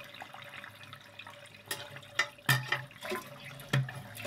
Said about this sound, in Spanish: Vamos a abrirle la llave para que se empiece a llenar y probar.